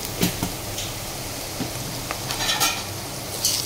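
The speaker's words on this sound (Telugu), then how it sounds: "వేసుకొని బాగా కలుపుకోవాలి." A spoon stirs ginger garlic paste and rock salt in a pan for khema semiya, with a steady soft sizzle and scraping strokes, close and unaccompanied by talk.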